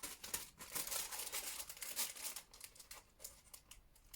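Sheet of small stickers handled close up, producing soft crinkling, peeling and rustling bursts in quick irregular succession, quiet and with no voices.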